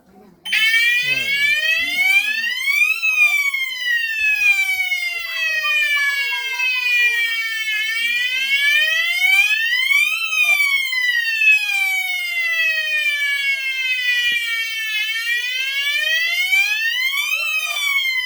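An Asenware fire alarm remote sounder wails continuously in a rising and falling whoop, loud and close, repeating every few seconds.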